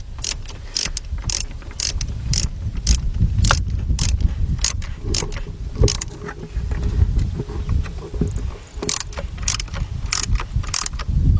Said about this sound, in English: Let's get our ratchet into there.